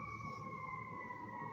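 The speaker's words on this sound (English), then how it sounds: "Let's let the fire truck sirens go by." An emergency siren from a fire truck or ambulance passing outside sounds as a steady, faint two-tone wail heard at a distance through a window, with low background rumble.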